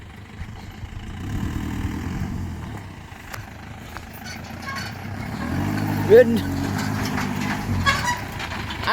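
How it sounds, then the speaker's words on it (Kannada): A jeep's engine rumbles low and steady at a rural borewell repair site, swelling slightly as the vehicle moves off, while voices talk nearby over the drone. "ಜೀಪ್ ಬಂತು ನೋಡ್ರಿ."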